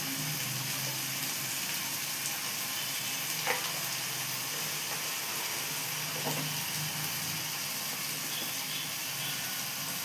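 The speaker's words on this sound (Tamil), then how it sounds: "சீரகம் போடணும், அதையும் நல்லா வதக்கிடணும்." Steady sizzling of cumin and pepper frying in a pan for vegetable kurma, a constant hissing crackle at moderate level with faint occasional stirring clicks, no speech.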